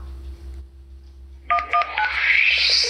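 Telephone keypad tones dial 911, with a short run of distinct beeps sounding clearly one after another over a low background hum.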